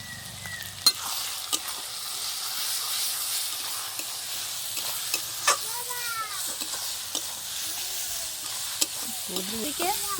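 Ground turmeric and red chili powder frying in oil in a pan, a steady soft sizzle and hiss with scattered scraping taps of a spoon stirring, close and moderately quiet.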